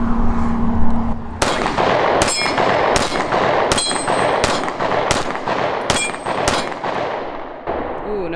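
A Taurus TX9 pistol firing Hornady 115-grain Critical Defense FTX rounds at a range, about nine sharp, loud shots in a fairly even string over several seconds, followed by a brief voice at the end.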